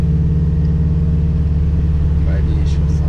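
A 270 hp car's engine rumbles steadily at about 30 km/h, a low continuous drone with slight revving swells, loud and close inside the cabin.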